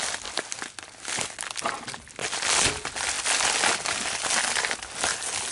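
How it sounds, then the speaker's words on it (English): Scissors cutting open the plastic bag holding stickers from a cubing-store unboxing, producing steady close crinkling and crackling of plastic with short snips and rustles throughout. "We're sort of trying to cut through the plastic bag that hold all the stickers."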